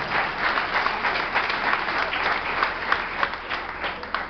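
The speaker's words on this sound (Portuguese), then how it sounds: "Aplauda Jesus Cristo." A church congregation claps steadily during a worship service, a dense, continuous applause with scattered sharper claps standing out, close and fairly loud, with no talk over it.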